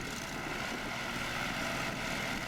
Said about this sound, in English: We use the 14-foot hovercraft to do this because it's more economical and easier to maneuver.